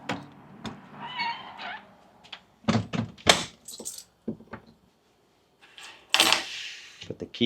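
Keys jangling and being set down near the door inside a parked vehicle, a few close, sharp metallic clatters and thunks separated by quiet gaps, with a voice briefly audible.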